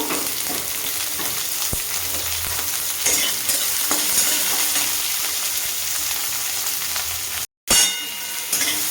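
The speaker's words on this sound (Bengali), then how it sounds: "পেঁয়াজটা একটু ভাজা ভাজা করে নেব" Thinly sliced onions fry with black cumin in hot oil, giving a steady close sizzle with occasional spoon stirs and scrapes and a brief dropout near the end.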